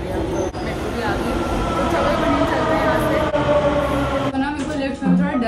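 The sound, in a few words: Delhi metro train arriving at station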